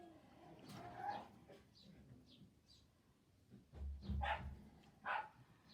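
An excited dog about to go for a walk, giving several short barks and yips at moderate distance, some spaced apart and a louder burst near the end, with faint birdsong behind.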